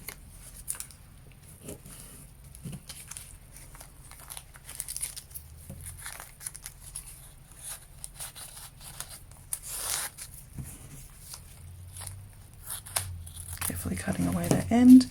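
Scissors snip away the end of a woven star: soft, sporadic cutting and crinkling sounds close up, with louder rustling toward the end.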